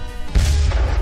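A loud crash of cannon fire and a fire trap from an Undertale comic, a sudden low boom that comes in partway through and rumbles on heavily to the end.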